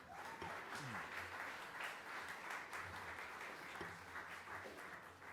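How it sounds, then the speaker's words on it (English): Faint, distant applause from an awards ceremony crowd, a soft continuous patter of clapping in a large room with low background murmur. "Please give them a round of applause"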